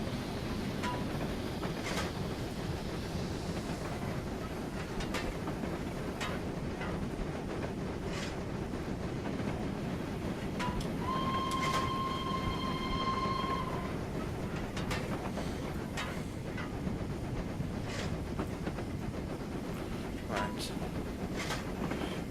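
A K1 steam locomotive runs on the Hamilton Branch Line in a train simulation, giving a steady rumbling roll with faint clickety-clack, a brief whistle-like tone midway and scattered clicks, continuous and fairly distant throughout.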